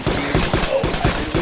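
Rapid automatic gunfire in the Arma 3 video game during a prison jailbreak fight, with loud bursts of shots repeating steadily through the clip at close range.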